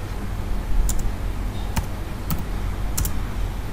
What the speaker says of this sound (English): They will type a run command called